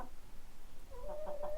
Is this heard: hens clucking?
yes